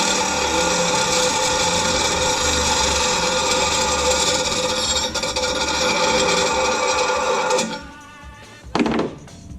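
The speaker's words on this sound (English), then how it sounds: "That's it. That's grinding." Metal being ground against the coarse side of a hand file in an outdoor campfire grill build, a steady continuous rasping scrape that runs loud and unbroken before stopping abruptly, followed by a short burst of scraping.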